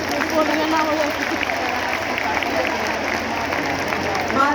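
Applause breaks out from an audience at a public event with the President, a steady dense wash of clapping that holds for several seconds, with a voice faintly present underneath.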